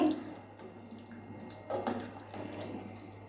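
A glass of water poured into a pot of chopped raw mangoes for chutney in a home kitchen: a soft, brief splash and trickle, fairly quiet against low background hum, with no talking.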